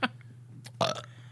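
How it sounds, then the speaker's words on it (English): One close burp rumbles out in a short, rough burst over a steady low hum, with small clicks and noises before it. "Got a burp."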